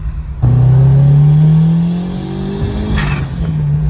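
Turbocharged Honda S2000 engine revs hard and climbs steadily with boost, then stumbles and breaks up near the top before the tone resumes; loud and close, with no talking.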